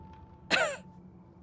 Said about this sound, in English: They cough, wiping their face with the back of their hand,